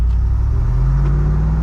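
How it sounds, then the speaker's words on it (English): A deep Jeep Wrangler 392 engine rumbles loudly and close, its pitch rising slightly as it revs, with no voices. "So just listen to this damn car, man."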